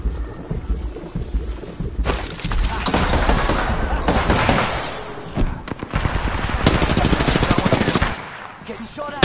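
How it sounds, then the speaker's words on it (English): Heavy gunfire in the battle royale game Apex Legends, with dense automatic bursts and rapid shots rattling almost continuously, loud and close, and brief pauses between volleys. "Getting shot at."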